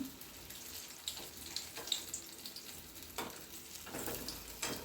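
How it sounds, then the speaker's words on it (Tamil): Boiled fish pieces frying lightly in oil for a Chettinad fish kuzhambu, giving a faint, steady sizzle with small crackling pops and occasional stirring scrapes. "நம்ம கொஞ்சம் லைட்டாக டோஸ்ட் பண்ணிக்குவோம் எண்ணெயில் போட்டு"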